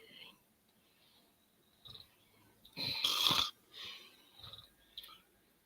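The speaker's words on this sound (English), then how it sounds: "I hate the sound of snoring" Someone snores in a home at night, a single loud rasping snore standing out between softer breathy noises, with quiet room sounds around it.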